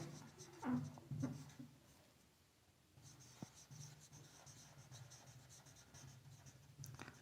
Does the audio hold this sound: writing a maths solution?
yes